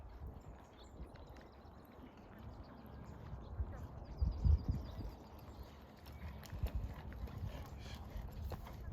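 A horse cantering in an arena during a riding lesson gives soft, rhythmic hoofbeats, faint and fairly distant, with a thump or two standing out midway.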